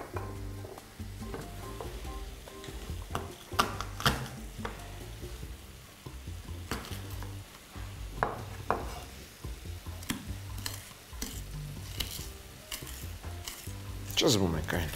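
Garlic sizzles in a pan for a buckwheat-stuffed carp filling, a steady frying hiss broken by scraping stirs and clinks of a utensil against the pan.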